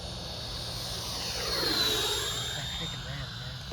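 RC jet aircraft flying in calm evening air, a high turbine whine sweeping across in a clear pass that swells and fades, with a low background rumble.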